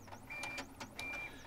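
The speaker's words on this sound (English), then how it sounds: "Now it's pulling the card in and cleaning the interior rollers of your printer." An Evolis Dualys card printer pulls a cleaning card through its interior rollers, giving faint mechanical whirring with repeated short motor sweeps and thin high squeaks, close and quiet with no talk.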